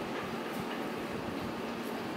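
A local train arrives at Shiroishi station platform on the Hakodate Line, its steady rumble and rolling noise loud and close, with no talk.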